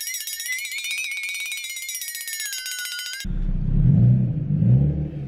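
A high, steady electronic whistle breaks off abruptly into the low, throbbing rumble of a BMW E36 drift car engine on its first drive, idling nearby and swelling slightly, with no talking.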